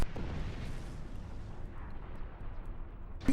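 Star Trek Online starship torpedo fire in combat: a deep, rumbling explosive burst with a long low roar that decays over about three seconds, ending in a sharp final pop.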